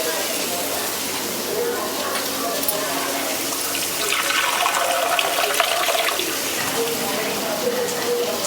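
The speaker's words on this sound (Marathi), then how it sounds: "1 वाटी पाणी टाकणार आहे मी।" A bowl of water is poured into a pan of sautéed cluster beans for a spicy gravy, producing a continuous rushing splash that swells midway, with sizzling underneath.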